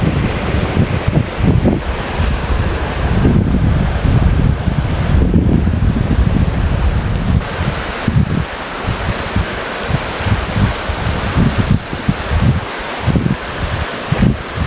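A creek too high to cross in California rushes steadily and loudly, a dense continuous wash with occasional low gusts of wind against the microphone and no voices.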